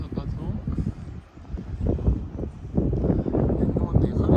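Wind rising over a bay in Turkey or Greece, buffeting the microphone aboard a boat as low, gusty rumbling that swells and dips, with a voice speaking over it.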